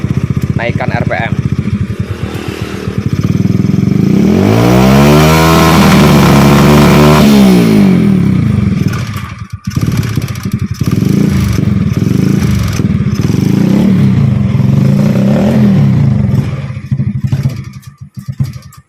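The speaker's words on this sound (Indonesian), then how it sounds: "Sekarang akan saya coba naikkan RPM." A motorcycle engine, close and loud, idles roughly, then is revved so the pitch climbs and sags back, before settling into a rumbling idle again with brief dips.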